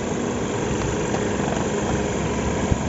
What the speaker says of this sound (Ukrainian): Двигун працює рівненько, зараз включена кліма.